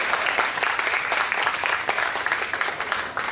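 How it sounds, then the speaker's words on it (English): A seminar audience applauds a DMC champion from the United States. The clapping is full and steady, densely overlapping without pause and lightly swelling and easing throughout. "Give him a big round of applause."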